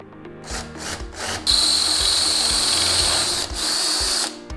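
A power drill bores a final hole with a 9/16 drill bit while installing ice scratchers, a close, loud steady whine that starts after a few short bursts and runs continuously, briefly dipping before stopping, without talk.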